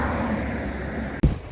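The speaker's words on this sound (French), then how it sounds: "Ça souffle là, 40 km/h le vent." Strong wind of about 40 km/h blows at the seaside at Canet-en-Roussillon, buffeting the microphone with a constant broad roar. A sharp thump comes near the end.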